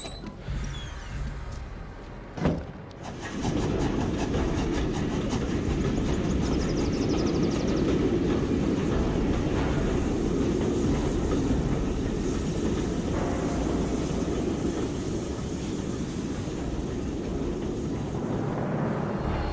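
A loud, rumbling roar with clattering and creaking metal builds after a short sharp knock, sustained like a train rolling past nearby, in a war film scene.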